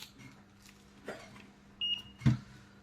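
One short, clear electronic beep from a multimeter continuity test sounds in a quiet room among faint clicks and light handling noises, while checking a Nintendo Switch circuit for shorts.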